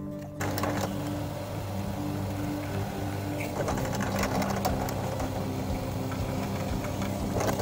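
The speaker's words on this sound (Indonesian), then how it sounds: "jadi ini saatnya untuk melubangi gagangnya untuk baut pengunci" A power drill bores a hole through the handle of a saw-blade knife for a locking bolt, giving a steady, close, continuous motor whine after a brief start.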